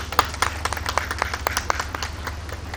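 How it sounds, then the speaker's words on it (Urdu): An audience claps in tribute at a public event, a short burst of scattered, uneven hand claps close by over a low background rumble. "ہم اس کو تالیاں بجا کر خراج تحسین پیش کریں"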